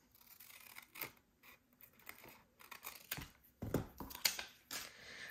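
Scissors snip through paper while making a pocket for a journal, a series of quiet, close, irregular cuts and crinkles with brief pauses between them.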